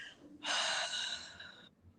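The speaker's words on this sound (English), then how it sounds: "Again, inhale, breathing in through our nose." One person draws a single steady breath in through the nose during a slow counted breathing exercise. The close, airy inhale lasts about a second against a quiet background.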